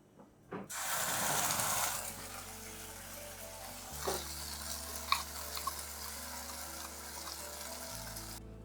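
Green pea paste dropped into hot oil in a wok, giving a close, loud burst of sizzling that settles into a softer steady fry, with a few scraping and stirring clicks.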